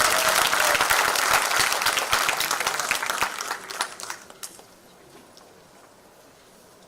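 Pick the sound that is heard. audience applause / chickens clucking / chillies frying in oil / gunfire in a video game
audience applause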